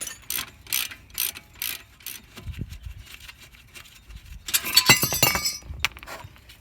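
A hand ratchet clicks in short, quick bursts while loosening the 17 mm brake caliper bracket bolts on a Toyota Camry, followed by a sharper metallic clatter; close and fairly quiet, with no talking.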